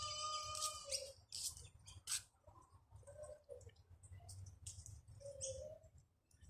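Birds feeding on fruit in a tree give quiet chirps and tweets in short bursts over a low ambient hum, with soft cooing notes and faint clicks, all distant and faint.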